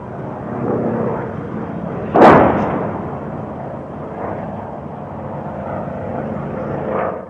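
Aircraft roaring overhead during wartime air attacks in Kontum, 1972, a steady broad rumble with one sharp loud blast-like burst around the middle and a swelling pass near the end.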